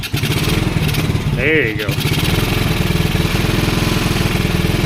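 A small, cold-natured motor found discarded by a roadside cranks, catches and settles into a rough, rapid-firing run, loud and close, with a brief spoken remark over the engine.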